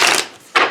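Tarot cards are riffle-shuffled up close in two quick, loud bursts of papery flutter separated by a brief pause.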